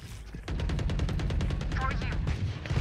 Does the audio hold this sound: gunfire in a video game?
yes